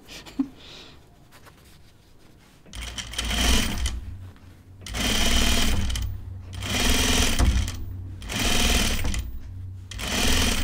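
Sewing machine stitching a seam on men's pants in repeated loud runs of fast mechanical whirring, each burst lasting a second or two, with brief pauses between them.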